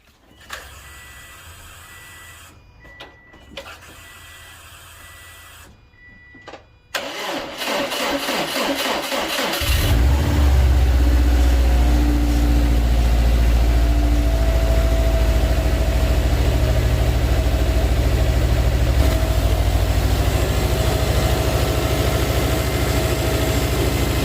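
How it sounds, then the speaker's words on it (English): A Subaru engine is started and settles into a steady idle during power steering fluid service. Quiet mechanical clicks come first, then the engine cranks, catches and runs with a loud, even drone to the end. "Let's go start the engine."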